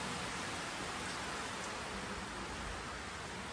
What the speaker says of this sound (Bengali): কি জোরে বৃষ্টিটা শুরু হলো।